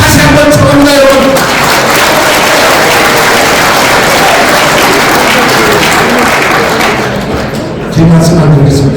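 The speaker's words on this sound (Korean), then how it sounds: "여러분의 박수를 다시 한번 청합니다." A hall audience at a Korean former lawmakers' association gathering breaks into loud, sustained applause that fills the room evenly for several seconds, with a voice audible at the start and end.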